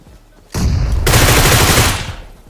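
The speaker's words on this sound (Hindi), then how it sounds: "घास में थोड़ा फ्री फायर दिया लेकिन ये बच जाता है" Automatic gunfire sprayed into grass in a mobile battle royale game, a sudden loud sustained burst of rapid shots lasting around a second and a half before fading.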